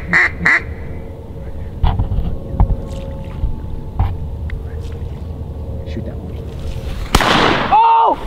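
Ducks quack on and off while birds fly in during a duck hunt in grassy cover, the calls moderately near over a steady outdoor background, with a louder burst of calls near the end.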